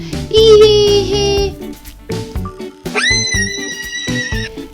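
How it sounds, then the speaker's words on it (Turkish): A horse neighs loudly twice, each whinny a shaky high cry, with a short pause between them and no talk. "At böyle ses çıkarır."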